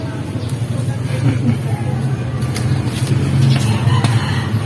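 A car engine runs steadily with a freshly repainted muffler on the exhaust, a low rumble holding constant and building slightly toward the end, with faint background voices.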